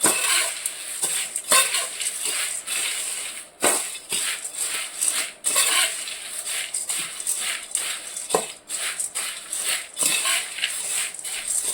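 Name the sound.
stirring garlic spice mix with roasted gram in a pan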